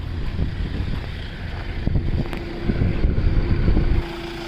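A 1.4-litre 1400 cc diesel engine in a 2016 Hyundai i20 Sportz idles with the bonnet open, a steady low rumble and hum with some wind noise over the microphone throughout.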